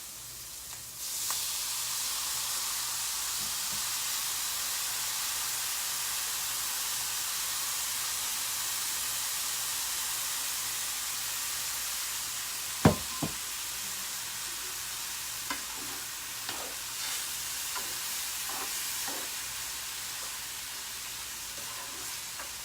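Tomatoes and peppers sizzle loudly in a stovetop pan over medium heat, a steady broad hiss starting after a second and running throughout, with a few brief clinks and stirring knocks near the end.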